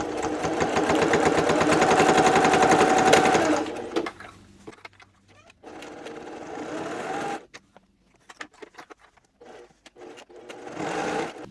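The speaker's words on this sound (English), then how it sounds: "all of the lines that you made for your darts, we're gonna stitch those and make sure you back stitch when you start" A sewing machine stitches darts on a fabric bowl cozy in fast, steady bursts, running loud and close for several seconds, then pausing and restarting in shorter runs with quiet gaps between.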